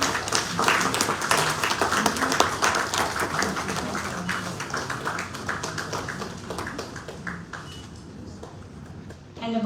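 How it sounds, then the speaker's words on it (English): An audience at an award ceremony applauds with a long round of dense, steady clapping that slowly thins and fades, with faint voices mixed in. "with a big round of applause."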